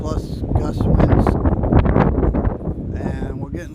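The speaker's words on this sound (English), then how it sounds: "We're being affected by some constant 30, 40 mile an hour plus gust winds." Strong gusts of blizzard wind roar and buffet the microphone in the Upper Peninsula, swelling and easing over a few seconds, with brief bits of human voice mixed in.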